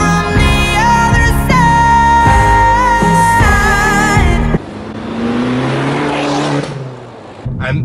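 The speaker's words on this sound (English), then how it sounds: "the other thing that I love about this car is the spool up of the turbo, which you can hear" An Abarth 595 Competizione with a Forge intake revs hard, the engine note climbing through several gear-like steps before dropping into a rushing turbo spool and whoosh, loud and close throughout.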